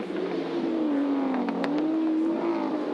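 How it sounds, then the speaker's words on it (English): Group A touring cars at Calder Park in 1985 race past with a steady, loud engine drone, pitch shifting slightly as they accelerate down the straight, with no talk over it. "Richards now makes his move. He'll pass Johnson"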